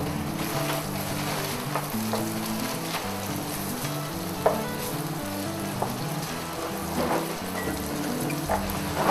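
Food frying in shallow oil in a home kitchen, a steady close crackling sizzle throughout with scattered pops and faint scraping, no talking.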